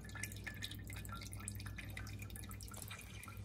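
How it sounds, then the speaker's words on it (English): Steady water from a water clock drips into a Pyrex container, a continuous faint trickle of small drops at a slowing pace, heard alone with a low hum beneath. "So you can tell that the pace of the water has slowed down"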